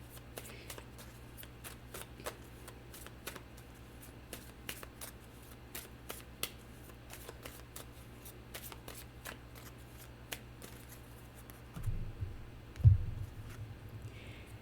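A deck of cards is shuffled for a tarot-style reading in a quiet room, with soft repeated riffling and light flicks of cards, ending in a few louder handling knocks and one sharp tap.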